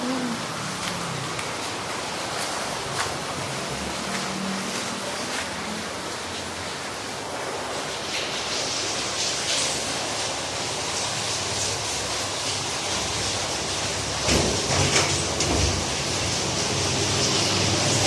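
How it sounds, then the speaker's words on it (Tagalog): Heavy rain pours steadily over a street with motorbikes nearby, a dense continuous hiss with no talk, a few sharper splashes or gusts swelling near the end. "Lakas ng ulan eh."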